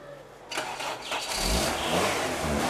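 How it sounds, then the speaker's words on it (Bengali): A car engine is started: a short cranking whir, then the engine catches and rises into a steady, fairly close running drone, with no talking over it. "গাড়িটা স্টার্ট দিন, স্টার্ট দিন।"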